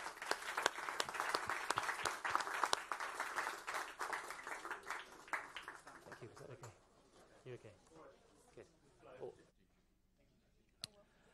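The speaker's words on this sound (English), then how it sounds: "A round of applause," Audience applause after a climate crisis panel: dense, steady clapping that gradually thins into scattered claps and fades to near silence, ending with a single late clap.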